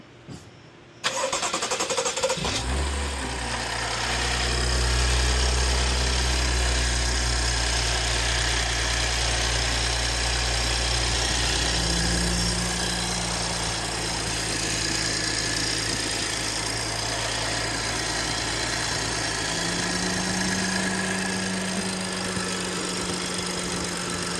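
A 2018 BMW X5 engine cranks and catches after valve cover gasket work, then settles into a loud, steady idle with a low, even drone and slight rises in pitch, with no speech.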